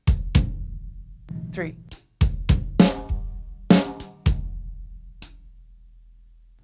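Drum ostinato of hi-hat and bass drum hits in a steady repeating pattern, heard close and fairly quiet, with crisp cymbal strikes over low thumps and a short spoken count partway through.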